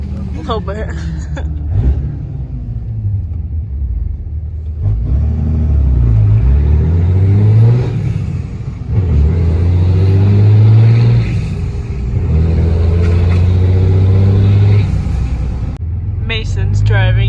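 A third-generation truck with its muffler cut off and a 5-inch exhaust from the downpipe accelerates, giving a loud, deep droning rumble that builds in long pulls, heard from inside with people talking briefly.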